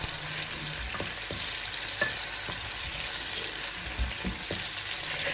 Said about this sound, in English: add all my onions in here. Fry it until they are nice and caramelized